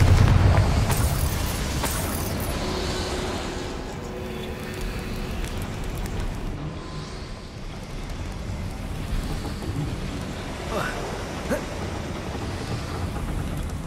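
A Confringo fire spell bursts in the Hogwarts Legacy video game, a broad blast at the start that trails off into a steady rumbling wash of game ambience.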